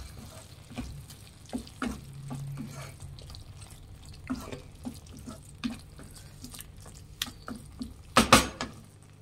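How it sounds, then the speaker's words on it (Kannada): Spoon stirring chilli powder into cooked tomato gojju in a pan, scattered soft scrapes and wet clicks against the pan, with a louder clatter near the end, close and fairly quiet. "ಫ್ರೆಂಡ್ಸ್ ಖಾರದ ಪುಡಿ ಹಾಕಿ ಚೆನ್ನಾಗಿ ಮಿಕ್ಸ್ ಮಾಡಿ ಫ್ರೆಂಡ್ಸ್."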